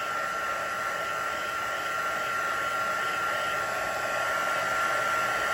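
A heat embossing tool blows hot air steadily over wet alcohol ink on a stamped card, a constant close whirring hiss with no pauses or talk.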